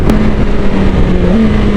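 BMW S1000RR M Sport motorcycle engine holding a steady, loud drone with a slight pitch rise near the end, close and continuous with no talking.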